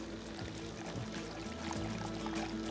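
Water is poured into a yogurt and spice mixture in a home kitchen, a steady soft trickle with brief splashy bursts, faint and close, with no talk.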